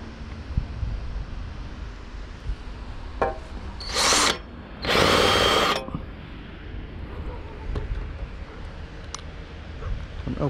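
A power drill drives a screw in two short whirring bursts, the second longer, close by amid quiet handling noises and faint background sound.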